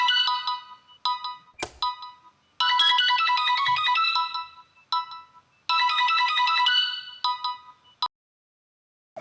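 A melodic phone ringtone plays loudly and clearly, repeating its bright chiming phrase several times with short gaps, then stops.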